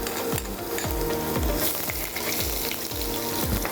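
Ginger and garlic fry in a hot pan with a steady, dense sizzle, and a utensil scrapes through them in a regular rhythm of about two strokes per second. The sound is close, with no talking.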